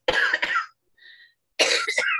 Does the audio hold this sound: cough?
yes